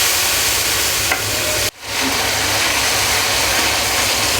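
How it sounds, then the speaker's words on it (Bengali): Masala spice paste frying in oil in a pan for Bengali hilsa fish ghata, a steady close sizzle with a brief dip partway through, no talk. "মশলাটা খুব ভালো করে কষাতে হবে"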